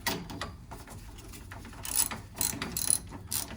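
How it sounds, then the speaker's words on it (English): A ratchet with a 5/8 socket tightens the bolts on a circulator pump head. Close, repeated clicking strokes come in uneven bursts, louder toward the end, with no talking. "Let's tighten up these bolts here."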